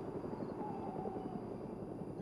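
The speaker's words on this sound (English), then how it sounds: "someone's flying a helicopter over here to get the drop." A helicopter flies overhead at night in the video game DayZ, a steady loud rotor and engine rumble holding evenly throughout with no voices.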